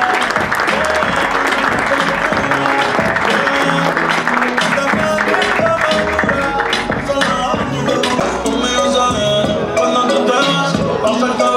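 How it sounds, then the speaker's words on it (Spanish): Sustained, loud applause from spectators in the stands at the Club Atlético Central Córdoba stadium for the presentation of the club's 2018-19 kit, a dense continuous clapping with a crowd murmur and talk mixed in. "se merece un renovado aplauso para la nueva indumentaria del Club"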